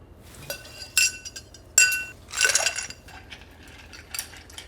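Whiskey cocktail made with Rittenhouse rye and demerara syrup being stirred in a glass: a series of bright, close clinks and scrapes of a spoon against glass and ice, irregular bursts over a quiet background.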